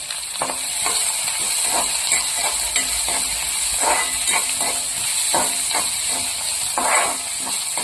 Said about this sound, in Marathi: कांदा असं परतून घ्यायचं.